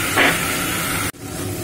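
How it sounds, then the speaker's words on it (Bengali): Soaked Gobindobhog rice goes into hot oil with cinnamon and cardamom, giving a steady close sizzling hiss that is cut off abruptly partway through and then resumes. "এবার আমি এই তেলের মধ্যে দিয়ে দেব যে চালটাকে আমি ভিজিয়ে রেখেছিলাম সেই চাল।"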